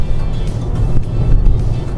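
An Audi Q7 3.0 TFSI Quattro engine drops a gear and pulls harder, a deep, steady low rumble with road noise around it, heard from inside the cabin.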